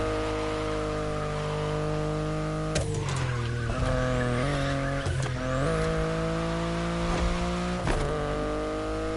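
A BMW i8 in the racing game The Crew Motorfest drives under a steady engine drone, with repeated sharp tire squeals and skids breaking in over several seconds, loud and close.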